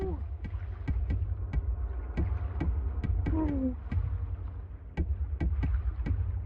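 Muffled knocking thumps from inside an underwater bunker in a Rockstar video game, a dozen or so irregular dull knocks over a constant low engine-like hum, with a faint creaking sound midway.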